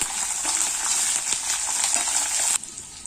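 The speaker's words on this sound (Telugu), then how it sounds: "అలాగే పచ్చిమిర్చి, కరివేపాకు వేసుకొని ఇవి కొంచెం ఫ్రై అయ్యాక" Green chillies and curry leaves frying in hot oil give a steady, bright sizzle with faint stirring scrapes, close and continuous until the hiss drops off abruptly near the end.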